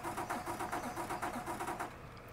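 A truck engine in Mafia 3 cranks over with a steady pulsing churn, loud and close, before the pulses trail off at the end.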